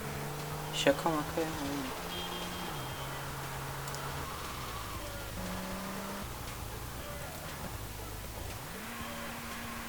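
A car engine in GTA Vice City sounds as a high, whining in-game motor note that climbs and drops with gear shifts and throttle changes. Someone talks briefly over it near the start.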